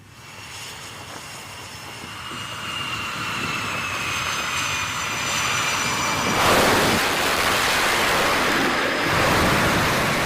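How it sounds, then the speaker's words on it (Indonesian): A US Navy Super Hornet fighter jet takes off from the aircraft carrier USS Abraham Lincoln, its engine roar building from a whining rumble to a loud broadband blast, with wind and sea noise underneath. "Jet tempur Super Hornet Angkatan Laut Amerika Serikat lepas landas dari kapal induk"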